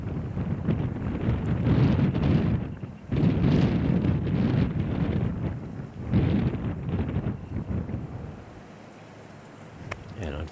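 Strong wind roars across a disc golf course during a tournament round, heavy low buffeting against the microphone in long gusts that ease briefly before surging again, then fade toward the end, with no clear talking over it.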